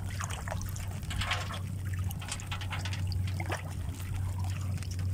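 Cold water trickles and flows steadily and continuously throughout, a close, even liquid babble in a rural outdoor spot during a storm, with a low steady hum underneath and no talk.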